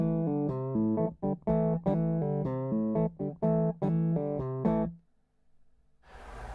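Dry electric guitar through a Victory V40 amp with the tone knob rolled fully down, playing a run of warm, muffled single notes and short phrases with no reverb, close and clear, ending in a brief hiss.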